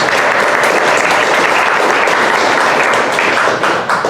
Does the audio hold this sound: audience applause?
yes